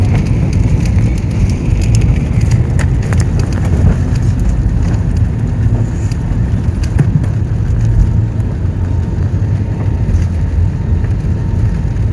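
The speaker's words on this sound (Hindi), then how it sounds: "बारिश हो रही है कलकत्ता" Steady, dense rain patter at Kolkata airport with a low rumbling background, continuous and fairly loud throughout, no voices.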